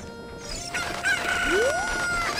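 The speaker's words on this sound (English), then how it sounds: "What do I do with this chicken?" A cucco chicken in Ocarina of Time squawks loudly and close, with rising clucks and a drawn-out crowing call over a faint background tune.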